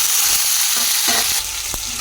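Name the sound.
onions and green chillies frying in hot oil in a wok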